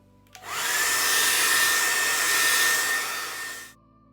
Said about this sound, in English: I'm gonna let this completely dry and blast it on cool air.